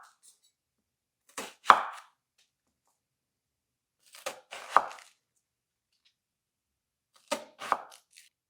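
A knife slices red onion on a cutting board in three separate bursts a few seconds apart. Each burst holds two or three close, crisp cuts, with quiet gaps between them.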